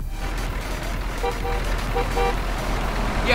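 A truck horn honks in the video game Euro Truck Simulator 2, a few short tooting blasts over a steady engine drone.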